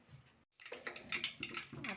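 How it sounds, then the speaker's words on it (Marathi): Mustard seeds splutter in very hot oil, giving close, irregular bursts of sharp crackling pops. "आपली मोहरी तळतळली आता मी जिरे टाकणार"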